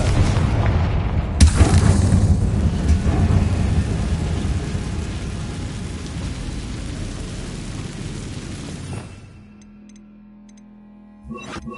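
A Confringo blasting spell in a Harry Potter video game sets off a heavy booming explosion with a sharp crack, followed by a long rumbling roar that fades and drops away near the end.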